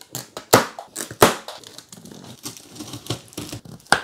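Cardboard and plastic packaging crinkling and crunching as a Van Rysel D900 home trainer is unboxed; loud, close bursts of crumpling with sharp rustles and tearing, irregular throughout.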